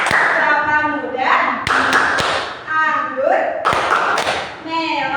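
Hands clap in sharp, evenly spaced claps during a children's fruit clap song, while a voice chants the song over them.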